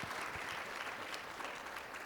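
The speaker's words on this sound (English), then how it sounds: "Conrad deserves a hand of applause because he's very generous" An audience at a university conference claps for Conrad, steady applause heard close and evenly for the whole brief stretch with no talking.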